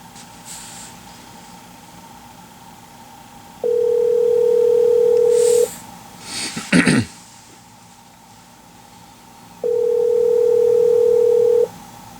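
Steady telephone dial tone heard while placing a call, two sustained mid-pitched tone bursts separated by a pause with a faint handling noise between them, close and clear with no talk.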